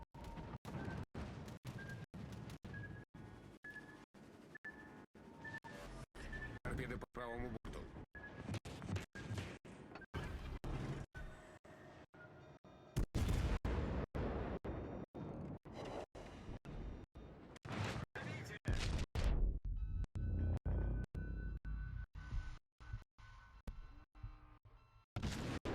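Naval cannon fire from a Petropavlovsk cruiser's armor-piercing shells in the game World of Warships Legends, with dense, continuous booming salvos and explosions layered throughout a long battle sequence.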